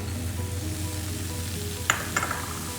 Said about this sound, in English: Add green chilies.